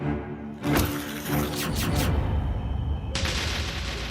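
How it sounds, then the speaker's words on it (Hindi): A sharp, loud gunshot-like crack bursts out, followed by a harsh, noisy rumble and a second hissing burst near the end. "तुरंत गोली चला दी"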